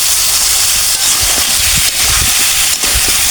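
Pumpkin hits hot oil and fried spices in a pan for a Bengali tilapia curry, giving a loud, continuous sizzling hiss with small dips in intensity.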